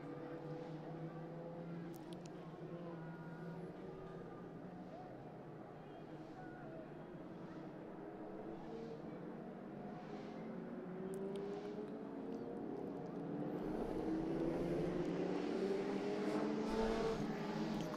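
Historic racing car engines, including a big McLaren, firing up on the grid at a historic motor racing festival, a faint distant drone of several engines that swells toward the end, beneath a commentator's voice.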